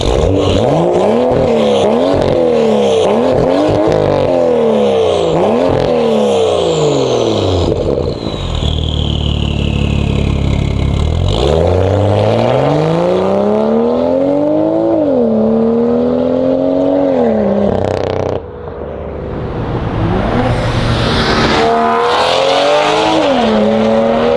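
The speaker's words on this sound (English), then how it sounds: "his little burbles, the exhaust note now, and the volume" Car fitted with an expensive aftermarket exhaust, heard up close and loud as the engine revs repeatedly, rising and falling, with burbling pops and crackles on lift-off and a sharp backfire.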